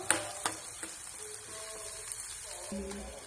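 Garlic, onion and ginger fry in a pan for paneer bhurji, a quiet hiss of sizzling with a few light knocks of a utensil and faint tonal whines, soft and close.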